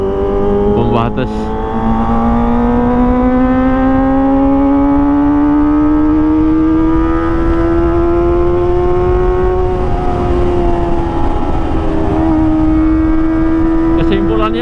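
A Kawasaki ZX25R motorcycle fitted with an Arrow Pro Race exhaust and header drones loudly and close, its pitch climbing slowly and smoothly before levelling off. A brief spoken word is heard over it.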